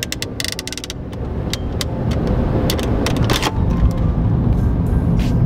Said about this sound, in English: Hear the purr of the engine.